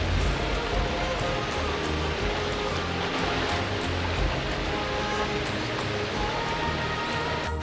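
Broadband rushing of flowing mountain water from the Sierra Nevada de Santa Marta, a steady close wash of stream or falls running without pause and without voices.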